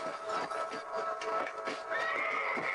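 A horse in a video game gives a loud, drawn-out whinny that rises and falls over a couple of seconds. It is heard alone, with no talk over it.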